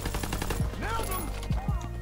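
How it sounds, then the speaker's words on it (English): A semi-automatic sniper rifle fires in a Call of Duty match, with a few sharp shots and whooshing game effects, close and loud over steady background game sound. "This sniper is actually good. It's like an automatic sniper."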